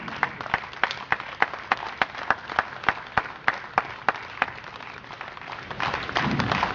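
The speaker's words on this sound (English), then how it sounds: "This definitely deserves a huge round of applause" Audience applause at a sand art show during a Tollywood night event in Vizag: many hands clapping steadily, with sharp regular claps standing out above the crowd and the applause swelling louder near the end.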